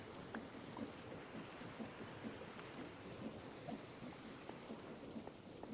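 Steady rain hissing in Minecraft, with a few soft low rumbles of thunder rolling beneath a constant wash of drops, all fairly quiet and even throughout.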